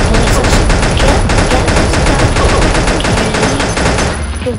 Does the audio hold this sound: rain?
no